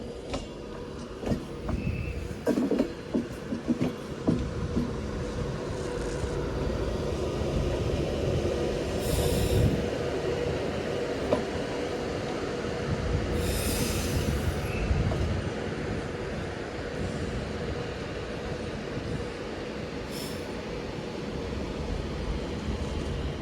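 A passenger train from London Euston rolls into Manchester Piccadilly station with a steady low rumble and clanking wheels on track, plus occasional high wheel squeals and hissing, close and sustained.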